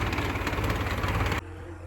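A tractor engine runs steadily on a Punjabi farm, a loud, dense, rumbling drone that drops suddenly to a quieter hum near the end.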